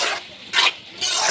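Potatoes stirred in a cooking pan make close, short scraping strokes, about three in quick succession, with a light sizzle and no talking.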